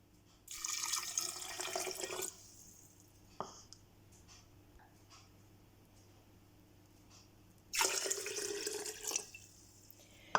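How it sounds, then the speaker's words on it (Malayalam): Water poured into a bottle of chopped ginger while making naturally fermented ginger beer at home: two splashing pours, the first about two seconds long and the second shorter near the end, with a quiet stretch between them. "ഇനി അതിലേക്ക് 2 കപ്പ് വെള്ളം ഒഴിക്കാം."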